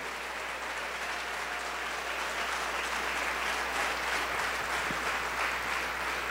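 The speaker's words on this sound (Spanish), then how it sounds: "Si ese aplauso es para Dios, déselo más fuerte." A church congregation applauds during a Spanish-language worship service, a dense sustained wash of many hands clapping that fills the space evenly from start to finish.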